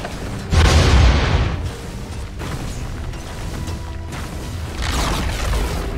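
A Radiant bottom tower in the video game Dota 2 under attack and collapsing, a loud booming crash up front followed by rumbling, crackling destruction and a second swell of noise near the end.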